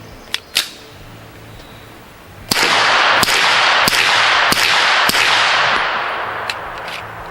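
A pistol fires Gorilla Ammo Silverback 115 grain supersonic rounds outdoors at a trade show range, with five very loud sharp cracks at an even pace over constant background noise, after a couple of fainter distant shots.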